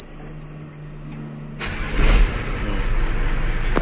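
A Hino FM 260 JD truck's diesel engine cranks and catches about halfway through, then settles into a steady rumbling idle.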